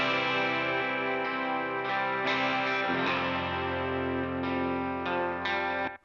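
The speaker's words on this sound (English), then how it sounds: "I got some cool guitar tone thanks to the amp sim." Electric guitar through an amp simulator blends several tones, including tweed-style and Marshall-style sounds, in a dense, sustained distorted passage with chorus-like shimmer, steady and loud until an abrupt stop.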